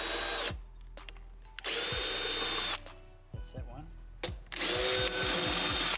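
A power drill whirs in several bursts of a few seconds each while tapping a bolt hole on the front end of an AU Ford Falcon, with clicks and clunks of handling in between, close up.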